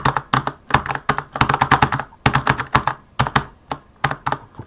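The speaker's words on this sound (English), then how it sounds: "let me keyboard mash" Fast, uneven keyboard mashing on a computer keyboard, dense bursts of clacking keys, loud and close with no voices.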